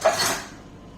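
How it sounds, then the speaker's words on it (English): A metal spoon clinks briefly against kitchenware, a single short bright clatter close by that quickly fades. "We keep our sugar in this Folgers thing. I don't know why, but we do. So let me get a spoon."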